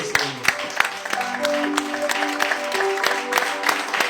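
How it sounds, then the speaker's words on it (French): A church congregation claps together in praise, a steady run of hand claps with sharp louder accents, mixed with a sustained organ-like tone and faint voices beneath. "Nous acclamons pour la gloire de Dieu."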